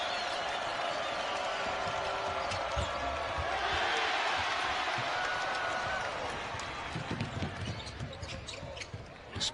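Basketball arena crowd cheering and roaring steadily at a college game, loud sustained crowd noise with applause, a commentator talking over it, and squeaks and bounces from the court late on.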